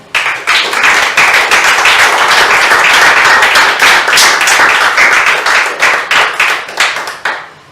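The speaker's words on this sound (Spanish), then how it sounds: "Un aplauso al Señor." A church congregation bursts into sustained, energetic applause during a worship service, loud and close, many hands clapping steadily before tapering off into scattered claps at the end.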